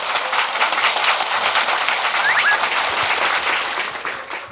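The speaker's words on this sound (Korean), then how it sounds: "큰 박수 부탁드립니다." An audience at a live jazz performance applauds a bass player, with dense, sustained clapping at fairly close range that tapers off near the end.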